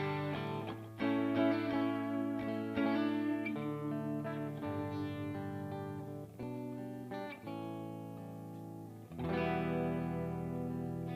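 Two distorted electric guitars with very similar tones, panned left and right, play chords together with no bass or drums, sustained and steady, with a fresh strum near the end.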